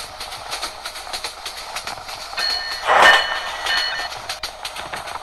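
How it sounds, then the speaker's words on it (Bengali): The Subarna Express in the Train Simulator Bangladesh game runs fast along the track, a steady rolling rumble with rhythmic clicks, swelling to a louder peak midway with a bright screech before settling back. "তো ট্রেনটাকে আমরা অনেক স্পিডে চালাতে যাচ্ছি"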